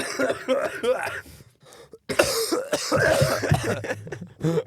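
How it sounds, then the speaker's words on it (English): Two or more people cough together in loud, overlapping bursts, close by, with bits of talk between the coughs. "I love my synchronized coughing."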